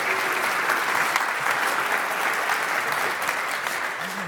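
Conference audience applauding a talk, a dense, loud, steady wash of clapping from a crowd lasting throughout without pause.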